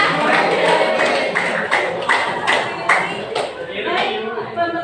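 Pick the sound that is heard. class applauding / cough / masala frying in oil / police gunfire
class applauding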